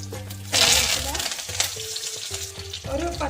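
Mustard seeds, fenugreek and curry leaves hit hot oil already used for frying in a Kerala ginger curry. A loud, bright sizzle bursts in after a low hum and crackles on steadily, alone with no talk.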